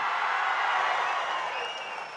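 A crowd at a Tamil political public meeting in Thanjavur claps for a speaker, a dense, even wash of applause filling the hall, loud and sustained before easing slightly toward the end.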